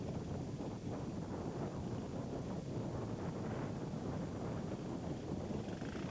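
Strong wind buffets the microphone continuously at a motorcycle trials event, a dense roaring rush with gusty fluctuations and no voices.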